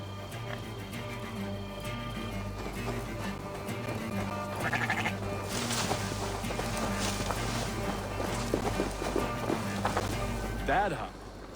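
Sheep bleat in Assassin's Creed Valhalla, several nasal bleats scattered over a busy game soundscape with footsteps, background music and character voices speaking.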